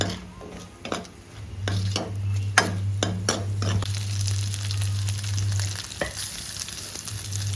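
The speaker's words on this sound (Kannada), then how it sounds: "ಒಂದಿಂಚು ಶುಂಠಿ ಇದೆಲ್ಲ ಬೆಣ್ಣೆಯಲ್ಲಿ ಸ್ವಲ್ಪ ಫ್ರೈ ಮಾಡ್ಕೊಳ್ಳೋಣ" Ginger and green chillies fry in butter in a pan, a steady close sizzle with a low bubbling hum beneath, broken by several sharp clinks and scrapes of a spoon against the metal in the first few seconds.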